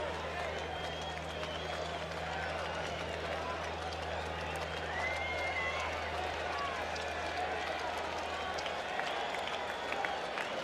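A large, subdued ballpark crowd at Game 4 of the 1986 World Series, Boston Red Sox versus New York Mets, with the home team trailing: a steady, distant murmur under a faint low hum, with no clear cheering.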